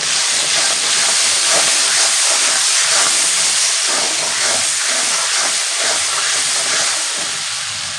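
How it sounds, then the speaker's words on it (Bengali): Tomatoes sautéing in a pan with salt and turmeric hiss and sizzle loudly and steadily, a close, continuous frying sound with no talk over it. "আমি লবণ হলুদ দিয়ে টমেটোটাকে একটু সুন্দর করে কষিয়ে নিলাম"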